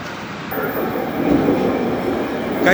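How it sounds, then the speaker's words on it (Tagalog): A driverless automatic train in Kuala Lumpur runs close by with a steady, loud rumble of wheels on rails and a faint high whine, continuous throughout. "ang isang bagay na nakakamangha rito ay ang kanilang train. Walang piloto."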